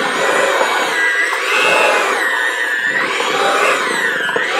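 An electric mixer whirs continuously through ground beef for burgers, a loud steady motor drone whose pitch wavers slowly up and down, with no voices.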